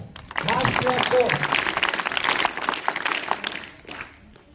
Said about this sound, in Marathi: तुमच्या टाळ्यांचा जोर कमी होत आहे